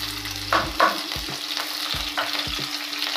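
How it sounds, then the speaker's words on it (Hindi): Green chilies sizzle in hot oil for a tadka tempering, a steady crackling hiss with a few sharp clinks and scrapes of stirring, close and fairly loud, with no voices. "ये देखिए हल्का सा तड़का लग गया, हल्का सा तड़का लगते ही डाल देंगे"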